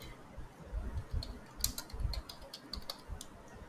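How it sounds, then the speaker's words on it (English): Keys clatter on a computer keyboard as a terminal command is typed, a quiet run of soft, irregular clicks with a few sharper taps, alone with no talk. "we need to type in sudo"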